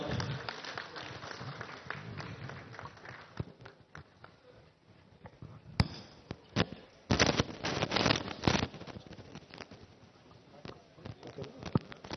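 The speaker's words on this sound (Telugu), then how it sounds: "యాణ్ గారిని తమ సందేశాన్ని వినిపించాల్సిందిగా నిండు కరతాళ ధ్వనుల మధ్య చప్పట్ల మధ్య వారిని స్వాగతిస్తున్నాం." An audience at a public function at the Kondagattu Hanuman temple claps to welcome a guest speaker. A dense, moderately loud patter of applause swells into stronger bursts in the later seconds.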